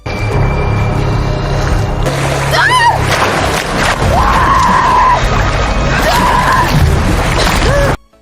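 A woman screams in a survival film as a strange current drags her while swimming, several rising cries over splashing water and a dramatic music bed, with a narrator talking over it.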